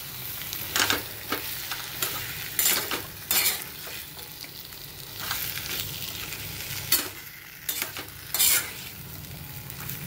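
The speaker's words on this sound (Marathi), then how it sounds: "शेंगा आपण परतून घेऊया मसाल्यामध्ये।" Drumsticks being sautéed in a masala paste in a pan for a village-style drumstick curry: a steady sizzle runs beneath sharp, recurring scrapes and clinks of a spoon against the pan, with no voices.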